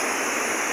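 The Zempoala river flowing, a brief, loud, close and unbroken rush of water.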